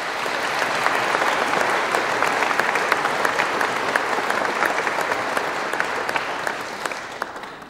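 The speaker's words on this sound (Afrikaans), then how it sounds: "kom ons gee hulle net weer 'n lekker hande klap." Sustained applause from a church congregation during an Afrikaans Sunday service, steady dense clapping filling the room at full strength for the whole stretch and easing only slightly at the end.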